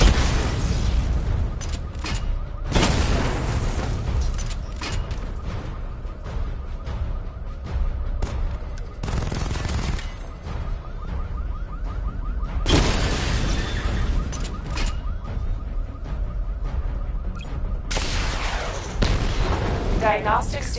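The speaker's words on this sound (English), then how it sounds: "Missile barrage level 1 ready." Repeated heavy booms and bursts from a missile barrage in a video game, several loud explosive impacts spread across the clip, with a voice talking over the barrage.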